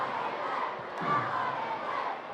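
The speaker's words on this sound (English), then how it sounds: "Very youthful crowd, as you can hear tonight at the Vitality" A youthful crowd at an England versus Ukraine under-21 football match cheers and shouts in a steady distant roar, swelling briefly midway.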